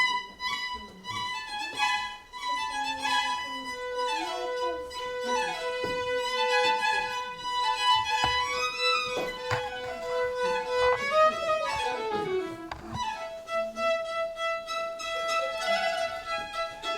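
Toy instruments imitate birdsong in Vivaldi's Spring, played as a didactic concert: bright, high chirps and warbling trills overlap in quick bursts and rising glides over a sustained backing tone, fairly close and moderately loud.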